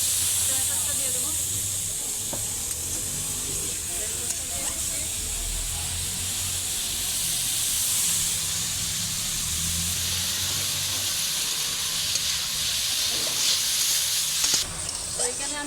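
Chopped tomato goes into chow mein frying in a pan, raising a long, continuous sizzle and hiss with occasional clatter, as someone talks over the cooking.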